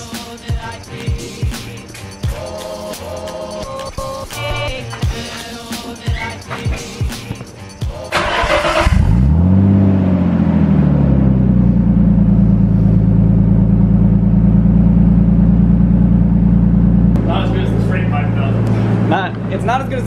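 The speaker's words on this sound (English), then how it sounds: "For the viewers, you should probably get a cold start." A car engine cold-starts after a stretch of people talking, catching quickly and settling into a loud, steady, droning idle that runs on to the end.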